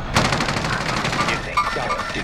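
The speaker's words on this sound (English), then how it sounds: "Taking shots here." Rapid automatic gunfire in a video game, loud and close, firing as a continuous rattling burst with a brief pause and a few more shots near the end.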